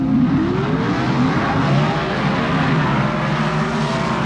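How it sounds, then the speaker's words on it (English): Pro Stock Chevrolet Camaro drag cars launch together in the second round of eliminations at the 1978 NHRA Gatornationals, a loud, steady roar of racing engines rising in pitch as they pull down the strip. "They leave the line together, but Warren Johnson beginning to build a lit"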